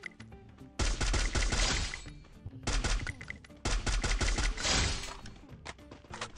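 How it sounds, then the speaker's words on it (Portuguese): Bursts of rapid, loud gunfire crack out in three long volleys, with quiet gaps in between, automatic weapons in a battle royale video game. "Eita, um tiro."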